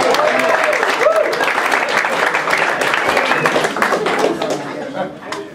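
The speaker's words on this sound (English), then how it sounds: "let's get one more round of applause so they don't condemn me from the family" A comedy club audience in New York applauds loudly, dense clapping mixed with chatter and a few chuckles, holding steady before tapering off near the end.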